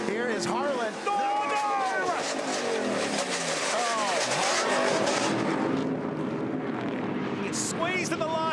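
Race trucks roar around a motorsport circuit, engines loud and continuous with rising and falling revs, as an excited commentator talks over the racing; the engine din thins briefly near the end.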